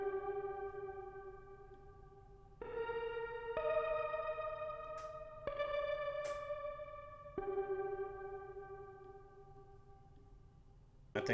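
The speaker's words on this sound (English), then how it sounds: "It's basically just like a crazy reverb. They got echo, delay." A tonal synth line runs through a crazy reverb-and-echo delay plugin in FL Studio, sustained notes changing every couple of seconds with long washy tails and a few sharp high pings, quiet and without any voice.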